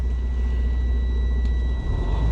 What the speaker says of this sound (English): I'm gonna turn my truck back on and build my air pressure back up to 120 PSI.